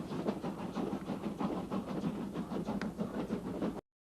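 Train running on rails aboard a slow passenger service, with a steady rumbling roll and faint rhythmic clatter heard close and continuous, alone with no talk, until it cuts off abruptly near the end.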